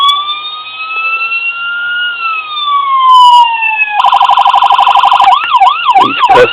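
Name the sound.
toy police car siren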